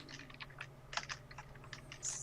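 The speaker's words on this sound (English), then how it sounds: "I'm just typing something" Typing on a computer keyboard resting on an echoing wooden desk produces quick, irregular bursts of close, crisp key clicks, continuous and fairly quiet, with no talking.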